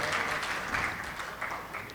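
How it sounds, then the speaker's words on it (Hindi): An audience at a poetry mushaira in Amravati applauds a poet, and the clapping is steady and moderately quiet, swelling slightly in waves over two seconds, with the sound of a large hall. "क्यों ना एक बार उनके लिए ताली बजा दी जाए"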